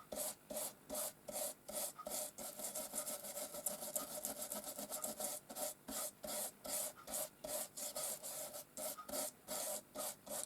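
A brush scrubbing back and forth over a craft stamp, close rhythmic rasping strokes, rapid and evenly spaced, with brief pauses between bursts.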